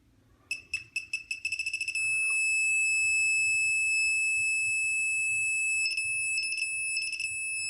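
A digital torque wrench gives a series of quick electronic beeps that speeds up, then becomes a sustained piercing buzzer tone that cuts out briefly near the end before resuming.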